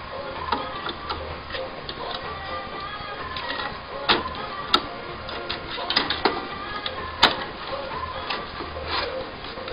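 HP K5400 printhead cartridges, magenta and cyan, being pushed into their slots while installing a continuous ink system, giving a few sharp plastic clicks among lighter ticking and handling noises, close up with no talking.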